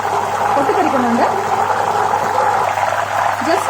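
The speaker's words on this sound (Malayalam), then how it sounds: "ഞാൻ ഈ വെള്ളം ഇതിലേക്ക് ഒഴിച്ചു കൊടുത്തു. നന്നായിട്ട് പൊട്ടിത്തെറിക്കുന്നുണ്ട്." Salt water poured into hot oil for potato frying sends up a continuous hissing spatter, loud and close, while a person talks over it.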